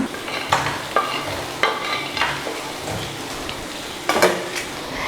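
Fried idli pieces and onions being stirred in a pan, with repeated scraping strokes of a spoon against the metal over a steady soft sizzle, close and moderately loud, with no talking.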